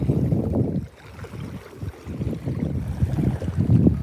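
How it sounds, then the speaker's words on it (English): Gusty wind buffets the microphone in uneven rumbling bursts, loud and close, with no voices, outdoors while fishing. "It's a bit too windy."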